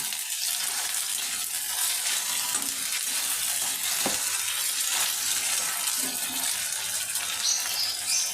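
Ginger, garlic, coriander, cumin and black pepper paste frying in oil in a pan for goat brain bhuna, giving a steady, even sizzle with faint occasional clinks and no voices.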